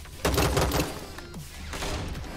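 Bursts of gunfire in the battle royale game Rules of Survival, a few sharp volleys in quick succession, loud and close, with a lingering game soundscape between shots.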